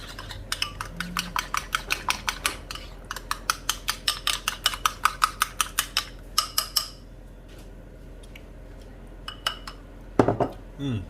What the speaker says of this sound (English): Lemony garlic dressing to go on top. Mix it in.